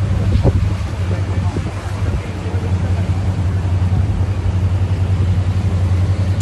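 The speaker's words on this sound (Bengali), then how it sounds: "এই যে নৌকার মধ্যে উঠলাম, এখন নৌকা ঘোরাচ্ছে।" A boat engine rumbles steadily as the vessel turns on open water at night, mixed with wind buffeting the microphone and soft water wash, with faint voices in the background.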